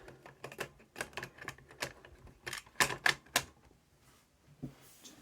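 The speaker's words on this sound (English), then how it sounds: "Let's put our tape in." A cassette tape is pushed into a 1980s Philips boombox under repair, giving a run of sharp plastic clicks and clunks close by, with quiet gaps between them.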